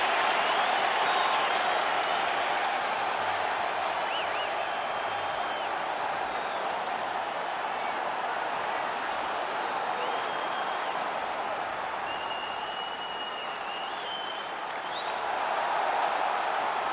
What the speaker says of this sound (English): Well, you hear the pop from the crowd, DC, as Nate Diaz gets set to make this walk